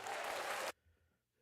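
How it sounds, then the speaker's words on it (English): A burst of steady crowd applause, dense and close, that stops abruptly after under a second, leaving near silence. "Let me give him a round of applause."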